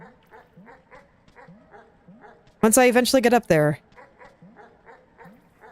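Dogs in the Animal Well video game give a rapid run of small, regular yips and barks at a steady rhythm, with a voice talking loudly over them partway through.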